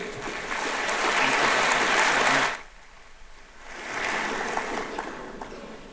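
Applause from a conference audience at a healthcare quality and safety forum opening, welcoming a professor to the stage: a loud, dense burst of clapping that drops away briefly, then swells again at a slightly lower level.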